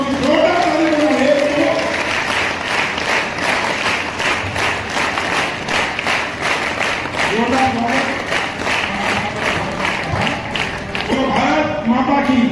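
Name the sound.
crowd applauding loudly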